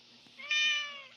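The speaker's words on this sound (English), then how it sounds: "Dude, do you hear my kitten hi?" A kitten's meow in a survival game, one short, rising tonal call of about half a second over a quiet background hum.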